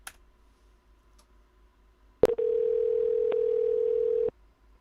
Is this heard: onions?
no